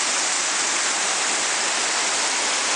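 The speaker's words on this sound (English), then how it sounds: "And then it cascades into a little waterfall here." A small waterfall at Skinny Dip Falls cascades into a deep pool beneath a footbridge, making a loud, constant rushing roar of water.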